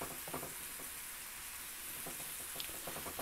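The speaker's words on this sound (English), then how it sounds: "we're going to give those a minute to fry" Food frying in a pan at home: a steady, close hiss and crackle of sizzling oil throughout, with faint occasional stirring clicks and no talk.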